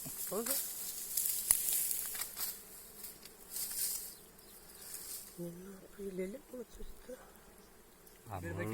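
Wild bees hum and buzz faintly around a honeycomb being cut during an outdoor honey harvest among friends, a thin continuous drone with sporadic voices and rustling nearby.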